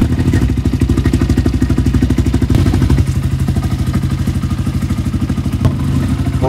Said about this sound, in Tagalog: Start na natin tong motor na to.